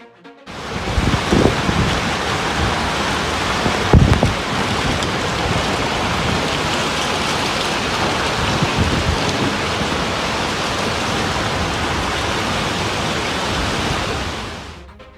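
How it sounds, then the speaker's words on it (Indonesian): A heavy hailstorm with pouring rain in Burgueda, Catalonia, Spain makes a loud, dense, continuous roar of pelting hail and rain, with a few sharper impacts near the start. "Badai hujan es melanda Burgueda, Spanyol."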